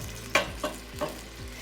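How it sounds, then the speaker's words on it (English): Bacon sizzling in a frying pan as it begins to crisp, a steady soft crackle under three or four distinct stirring scrapes spaced about every third of a second, close and fairly quiet. "Now that our bacon is starting to crisp up a little bit"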